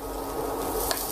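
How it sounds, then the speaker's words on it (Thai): Mushrooms or aromatics being stir-fried in a pan for a steak mushroom sauce, a steady close sizzle with scraping stirs throughout, alone and fairly quiet. "ก็ผัดให้ส่งกลิ่นหอมนะครับ"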